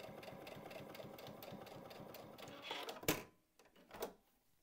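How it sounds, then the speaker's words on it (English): A sewing machine with a bias binder foot runs a straight stitch along bias binding for a drawstring, a steady close mechanical whir with rapid needle rhythm that slows and stops near the end. "Using a straight stitch, I'm just sewing it."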